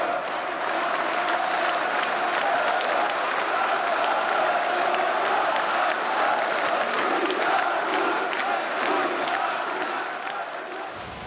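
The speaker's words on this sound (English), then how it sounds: "The crowd is unbelievably excited." A large crowd celebrating Georgia's declaration of independence from the Soviet Union roars and cheers continuously, a dense wash of voices and applause that fades slightly at the end.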